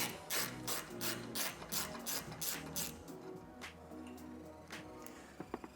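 A ratchet wrench loosens a bolt on a stock roof rack for a rear Front Runner awning on a Winnebago Revel, giving rapid bursts of crisp clicking that come in quick repeated strokes, close and fairly quiet, then trail off into a few scattered clicks.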